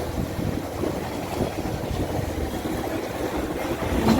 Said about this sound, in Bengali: বেলুড়ের ওপর দিয়ে ট্রেন যাচ্ছে